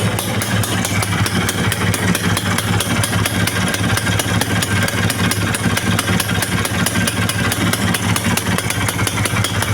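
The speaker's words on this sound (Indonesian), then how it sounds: "Nah ini alhamdulillah udah nyala ya mesinnya ya." A rebuilt Vespa VBB scooter engine with an upgraded large crankshaft idles steadily and loudly up close, its rapid even putter unbroken throughout with no voices.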